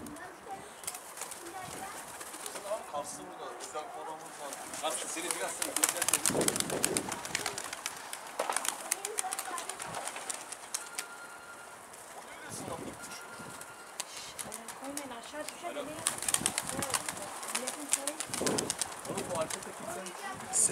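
Pigeons coo repeatedly in a close, enclosed space, with occasional wing flaps and rustling, while voices talk intermittently in the background.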